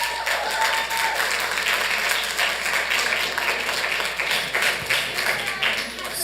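An audience at a Santa Ana city council meeting claps steadily for several seconds, a dense patter of many hands filling an indoor chamber, moderately loud and continuous with no talk over it.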